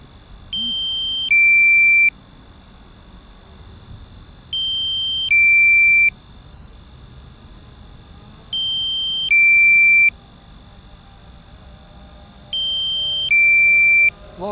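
A drone's low battery warning sounds as paired two-tone electronic beeps, repeating four times at a steady interval of about four seconds, clear and close over a quiet background.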